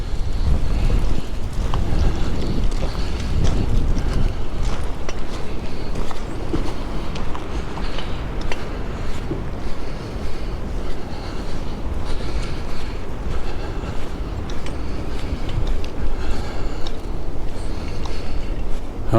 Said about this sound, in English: You can see it is kind of breezy.